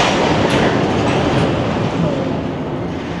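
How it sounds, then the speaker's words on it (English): Freight train being assembled at a grade crossing, with a loud continuous rumble of rolling railcars and wheels close by, fading slightly toward the end. "I think he's about to connect the train up."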